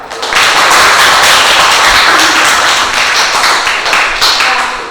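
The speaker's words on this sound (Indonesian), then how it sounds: "Boleh kita kasih tepuk tangan?" An audience claps together at a classroom guidance session, a dense, steady patter of many hands that swells in quickly and holds loud for several seconds before thinning slightly at the end.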